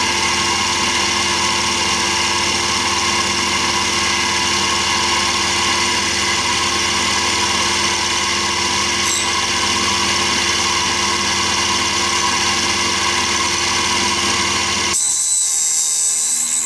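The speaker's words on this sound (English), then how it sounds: "It's going to take a fairly deep grind on the first pass, but I think it'll be okay." A homemade four-facet drill bit grinder runs with a loud, steady mechanical drone and whine as it takes a deep grinding pass on a bit, then cuts off abruptly near the end.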